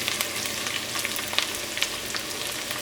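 Shallots and garlic frying in hot oil for an okra thoran, a steady close sizzle with scattered crackling pops and no talk.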